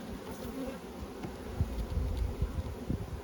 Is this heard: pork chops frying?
no